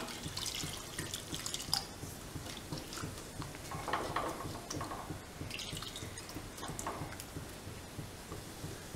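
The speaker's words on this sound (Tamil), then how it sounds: "கொஞ்சம் தண்ணி விட்டுக்கலாம்" Water splashing and trickling into a pot nearby, uneven gurgles and drips with a few soft clanks.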